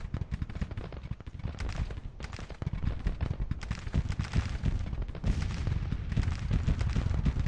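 Model 1817 rifles crackle across a Grand Tactician Civil War battlefield in 1863, a dense, continuous ragged volley of many distant shots rolling on without pause.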